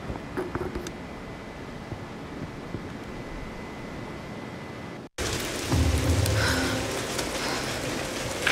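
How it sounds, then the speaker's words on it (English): Heavy rain and rolling thunder from a storm in the video game Tomb Raider, a steady dense downpour that briefly cuts out before returning louder with deep rumbling underneath. "We're getting closer to the storm."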